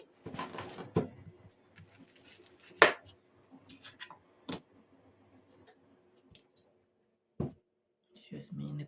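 Zucchini, eggplant and onion being cut into rings on a board make scattered knife taps, one louder chop among them, with sparse gaps between the cuts.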